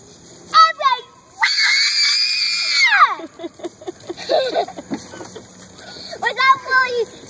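A young child shrieks loudly, one long piercing scream held for about two seconds, with shorter excited squeals and childish vocal bursts before and after, close to the microphone indoors.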